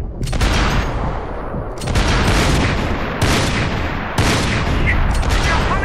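Heavy bursts of gunfire in the video game Max Payne 3 crack and boom close by, coming in repeated waves every second or so with almost no quiet between them.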